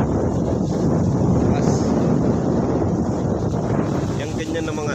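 Strong monsoon wind buffets the microphone in a loud, continuous roar, with a faint watery wash behind it and no clear pauses.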